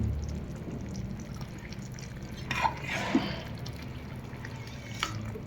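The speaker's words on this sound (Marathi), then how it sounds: "मी वरून एक ग्लास पाणी घालणार आहे बघा हे गरम पाणी" Hot water poured from a glass into veg dalcha cooking in a pan, a faint, soft splashing and trickling heard up close, with a few brief drips over quiet kitchen background.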